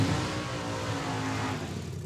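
Supercharged dragster idling and revving in the right lane at a Tucson drag strip test-and-tune session, a steady loud engine rumble held throughout at close range.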